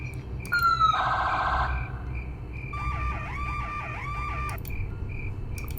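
An electronic alarm blares in the horror video game Five Nights with Froggy, first a steady harsh tone, then a rapidly warbling, sweeping siren over a constant low hum, loud and sustained without speech.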